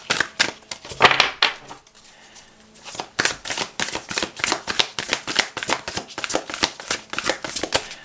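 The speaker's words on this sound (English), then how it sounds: "One more shuffle" Tarot cards are shuffled by hand in close, crisp bursts of riffling and slapping, a short flurry, a pause, then a long run of rhythmic shuffles.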